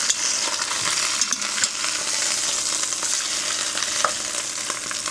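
Oxtail-substitute meat searing in a hot pan right after the first flip, a steady loud sizzle and crackle of frying fat with small pops, continuous throughout with no voices.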